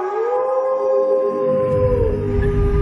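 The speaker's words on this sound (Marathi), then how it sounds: "तर कधी कोल्ह्यांची कोल्हेकुई अंगावर शहारे आणत होती." Jackals howl in a night setting, a long sustained wavering howl carrying throughout, loud and near, joined by a rising rumble of lower noise toward the end.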